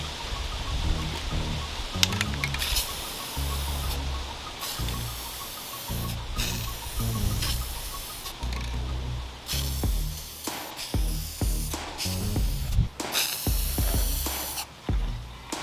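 Rustoleum hammered metal effect spray paint hissing from an aerosol can outdoors onto a sculpture made from green floral foam blocks, a long steady spray that turns into short choppy bursts near the end.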